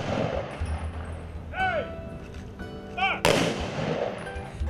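Two sharp ceremonial rifle-salute cracks ring out a second or so apart, then a louder third volley, echoing outdoors at a Patriot Day memorial over a low rumbling background.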